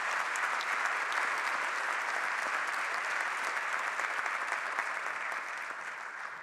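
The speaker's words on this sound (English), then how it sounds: "Can we get a round of applause, please?" Sustained audience applause after a conference plenary panel, a dense even wash of many hands clapping that holds steady throughout and tapers slightly at the end.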